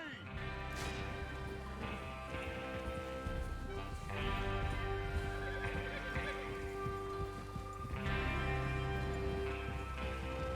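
Horses ride out in Red Dead Redemption 2, hooves clip-clopping and occasional whinnies under a low rumbling game soundscape with music and speech, continuous and moderately quiet.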